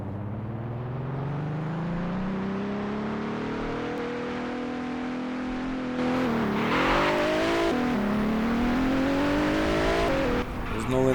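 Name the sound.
Nissan GT-R R35 accelerating hard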